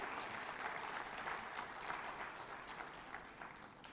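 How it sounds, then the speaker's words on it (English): Faint but continuous applause from a conference audience after a talk at an ophthalmology meeting in Chennai, an even wash of many hands clapping from a distance with no voices. "Can I have a big round of applause?"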